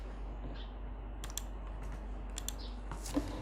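Sparse computer keyboard typing while data is entered into a database table, a few scattered key clicks and clusters over a steady low background hum, fairly faint and with no voice.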